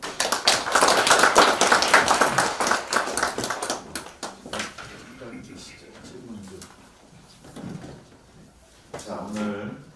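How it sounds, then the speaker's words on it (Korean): An audience claps loudly for a missionary lecturer at a church missions talk, the applause dense for about four seconds before thinning out, with a voice speaking afterward. "우리 이재한 선교사님 다시 한번 감사의 박수 한번"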